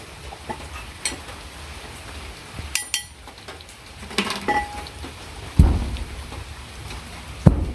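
Steady rain falls on a rural village day, a continuous hiss with a few sharp knocks and clatters from household items nearby; no voices.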